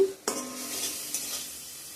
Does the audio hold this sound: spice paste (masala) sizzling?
yes